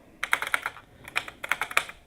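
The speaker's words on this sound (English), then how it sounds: "I have my loud keyboard as well, by the way." A loud computer keyboard clacks in quick bursts of sharp, close keystrokes with brief pauses between clusters, heard alone without speech.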